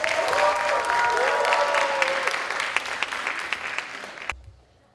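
Audience applause at the grand finals of a middle school English debate tournament, a steady dense wash of clapping with a few tonal voices mixed in, fading and cutting off near the end.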